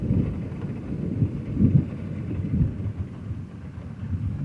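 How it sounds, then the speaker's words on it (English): Deep rolling thunder rumbling through a heavy downpour, a low continuous growl with swelling peaks, close and loud, with no talking. "It's pouring down raining."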